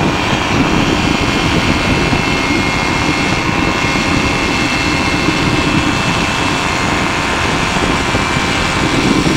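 Flexwing microlight aircraft engine droning steadily at full power during a climb-out from a circuit, a loud continuous close-up roar with wind noise that holds level throughout, with no talking.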